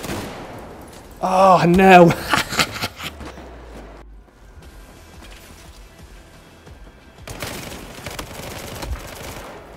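Automatic weapon fire in Battlefield 4 on PC, a loud dense burst near the start under an exclamation, then quieter game ambience with a renewed noisy stretch of fire near the end.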